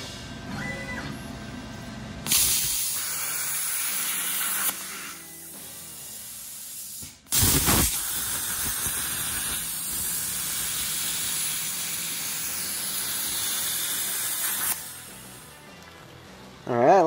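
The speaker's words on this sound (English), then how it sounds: "Are you guys getting tired of me showing off with that plasma table yet?" Plasma table cutting a metal bracket in a garage truck-build shop: a loud, steady hissing roar that starts and cuts off in long bursts, with brief pauses between cuts.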